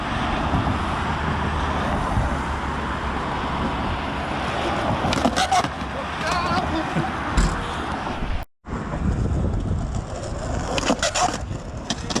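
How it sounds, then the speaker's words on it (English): Street traffic passes on a road in Valencia, Spain, a steady, fairly loud roadway rumble with vehicles swishing by, briefly cut out near the end before the noise resumes. "Wait for the traffic to go by."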